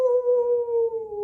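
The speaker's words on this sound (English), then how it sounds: "Then the wolves began to howl." Sustained wolf howl, a steady, smooth, loud tone holding one pitch and sliding slightly lower toward the end, heard alone without other sounds.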